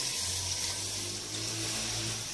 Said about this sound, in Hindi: तकरीबन 1 लीटर हम पानी डालेंगे